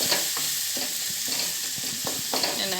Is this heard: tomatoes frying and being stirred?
yes